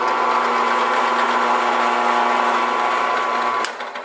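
A drill press runs steadily, a loud continuous whining motor hum as it cuts jewelry metal, ending with a brief knock and the sound dropping away as it winds down.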